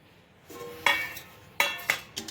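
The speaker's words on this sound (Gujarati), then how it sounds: "તપેલું મેં ઢાંકી દીધું છે." A metal lid settles onto a cooking pot of homemade herbal hair oil with a few ringing metallic clinks, a scrape, then several quick taps that fade, close by and alone.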